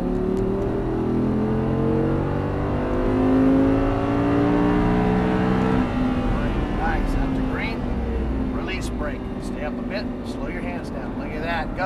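An Audi R8 V10 accelerating on a race track, its engine note rising steadily through the gears for several seconds before easing off, loud and constant, with a driving instructor talking over it.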